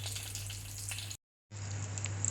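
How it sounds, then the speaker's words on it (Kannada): Garlic and curry leaves sizzle in hot oil for a Kannada-style coconut sambar, a steady close frying hiss that cuts out briefly before resuming. "ಇವಾಗ ಜೀರಿಗೆ ಸಾಸಿವೆ ಚಟಪಟ ಅಂದಮೇಲೆ ಸ್ವಲ್ಪ ಕರಿಬೇವು ಹಾಕೋತಾ ಇದ್ದೀನಿ ರೀ"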